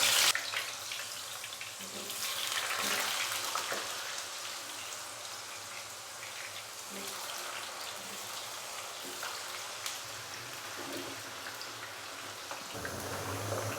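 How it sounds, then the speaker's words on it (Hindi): Potato pieces frying in oil in a pan for a dahi aloo masala dish, giving a steady, dense sizzle and crackle throughout with a few louder pops and splatters, close and moderately loud, with no speech. "आलूओं को फ्राई होने के लिए मैंने पैन के अंदर डाल दिया है।"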